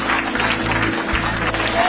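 A church congregation breaks into brief, dense applause, a loud wash of clapping that fills the room for a couple of seconds.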